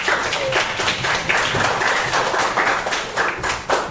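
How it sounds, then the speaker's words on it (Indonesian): A high school classroom of students claps together, a busy patter of hand claps with uneven bursts that continues steadily for a few seconds with no talking. "Tepuk tangan dulu, tepuk tangan dulu."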